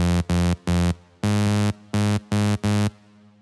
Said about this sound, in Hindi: अभी आपने हेडफोन लगा रखा हो तभी आपको ये सब बेस सुनाई देगा